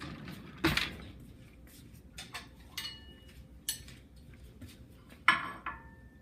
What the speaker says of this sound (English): pull the tuna out and like break it up because this is like super good tuna and it's not like pre-broken